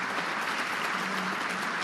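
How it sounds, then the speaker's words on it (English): Applause from the crowd at a neighbouring snooker table, a steady, soft wash of many hands clapping at a distance that holds evenly throughout. "We're hearing applause"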